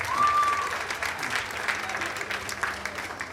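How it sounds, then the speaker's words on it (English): Steady applause from a crowd at the Robeson County Fair in Lumberton, North Carolina, dense clapping throughout with a brief high whistle near the start. "Give those two a big round of applause."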